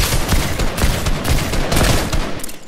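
Rapid bursts of automatic gunfire from hip fire in a video game, a dense, loud, continuous rattle of shots with no speech.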